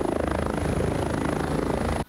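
A medical helicopter arriving to land gives a loud, near, continuous rotor chop with a droning engine whine, ending abruptly.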